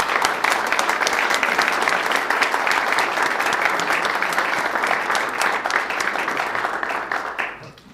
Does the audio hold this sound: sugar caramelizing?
no